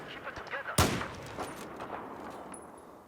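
Single sharp gunshot from a long-range rifle in Battlefield 4 multiplayer on Xbox One, loud and close, followed by a decaying echo and faint scattered battlefield noise.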